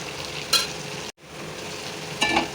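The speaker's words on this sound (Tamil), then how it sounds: "இஞ்சி பூண்டு பேஸ்ட் போட்டதுக்கப்புறம் நல்லா ட்ரை ஆகிடுச்சு" Ginger garlic paste frying in a pan for restaurant-style pepper chicken, a low steady sizzle with two sharper stirring scrapes and a brief dropout in between; no talk.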